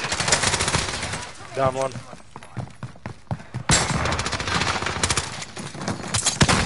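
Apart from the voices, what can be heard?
gunfire in a shooter video game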